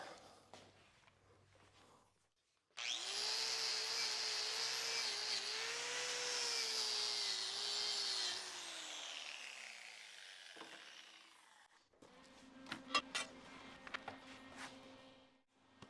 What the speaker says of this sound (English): Get that wire brushed off.